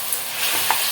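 A spoon stirs talakaya curry in a hot frying pan, a soft scraping over a steady faint sizzle, with a couple of light clicks.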